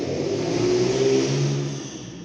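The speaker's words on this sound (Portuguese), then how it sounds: "Desculpa, passou uma moto." A motorcycle passes close by on a street, its engine swelling in a loud rising drone that peaks midway and then fades off as it moves away.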